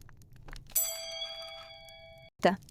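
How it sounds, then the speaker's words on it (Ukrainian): A single bright ring of a bell tone sustains for over a second, then cuts off before a brief voice; quiet room otherwise. "Хтось дзвонить."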